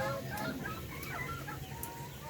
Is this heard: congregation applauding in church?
no